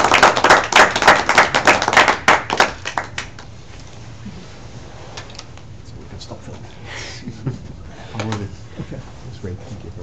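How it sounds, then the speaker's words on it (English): Crowd claps for a guest lecturer on international criminal tribunals, a loud burst of close hand claps for about three seconds that thins to scattered claps and then quiet room noise with a few faint sounds. "I would invite you to join me in another round of applause for our wonderful speaker today."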